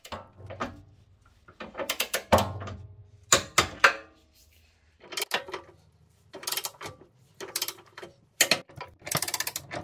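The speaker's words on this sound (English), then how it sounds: "I then switched to a 1/2 inch torque wrench and a 19 millimeter socket to tighten the four outer bolts to 75 foot-pounds." A half-inch torque wrench with a 19 mm socket ratchets in short clicking bursts separated by pauses while tightening the four outer trailer hitch bolts to 75 foot-pounds on a 2004 Honda Pilot, close and clear with no talk.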